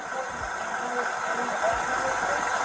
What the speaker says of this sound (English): there's some type of rattling, it sounds like, over in here, and then there's obviously your engine